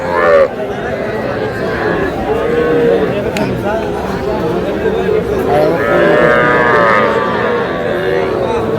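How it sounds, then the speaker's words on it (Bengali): Bull and heifer calves low and moo repeatedly at a busy Bangladeshi cattle market, the close animal calls rising over steady crowd chatter and people talking throughout. "এই পাশেরটা ষাঁড় বাচ্চা, এই যে 11টা বকনা বাচ্চা।"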